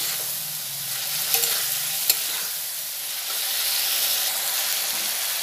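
Fried potatoes are stirred into spice paste in a pan for aloo begun torkari, giving a steady, close sizzle with a soft scraping of the stirring utensil throughout and no talking.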